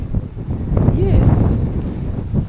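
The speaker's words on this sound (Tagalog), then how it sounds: "So windy." Strong wind buffets the microphone outdoors in Taiwan, a loud continuous low rumble and roar, with voices talking over it.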